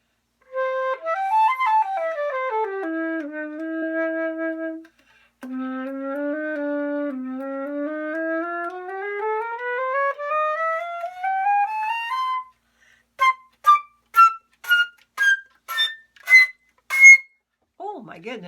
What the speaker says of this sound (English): and that turned into a bigger flute, a silver flute that sounds like this.